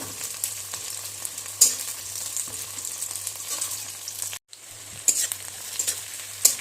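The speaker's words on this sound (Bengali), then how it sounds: "পেঁয়াজটা দিয়ে একটু ভেজে নিতে হবে" Chopped onion frying in a pan sizzles continuously up close, with scraping stir strokes and clacks; the sizzle briefly drops out near the middle before resuming.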